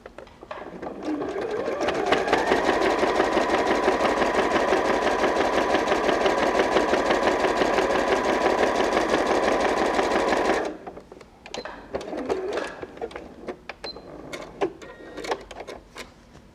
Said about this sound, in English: let's just zigzag stitch that.